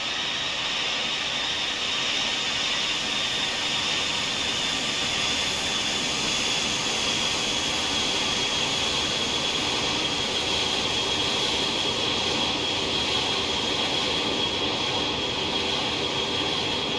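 Boeing 737-200 jet engines in cruise flight within a flight simulator game, a constant loud roar with a steady high whine that holds unchanged throughout, no voices.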